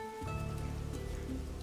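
Rain falls steadily in the video game Stranger of Paradise, a dense hiss of drops over a low droning music bed, fairly quiet and continuous.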